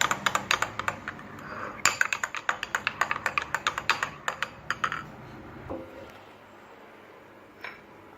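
Spoon clinking and scraping against a mug while chocolate mug cake batter is stirred together with liquid cream, a quick run of close, rhythmic taps that slows and fades, with a single faint clink near the end.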